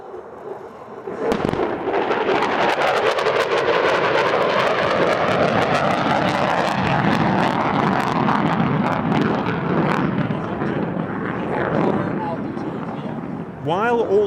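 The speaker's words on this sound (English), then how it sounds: "Now, a mock bombing run with a huge burst of ground pyro." A mock bombing run at the Edwards AFB airshow sets off a huge burst of ground pyrotechnics, with a sustained loud roar and crackle of explosions and jet noise. A commentator talks over it.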